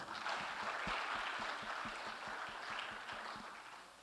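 Audience at a journalism talk event in Rajasthan claps together, a dense spread of hand claps that stays fairly even and then tapers slightly toward the end, heard at moderate distance.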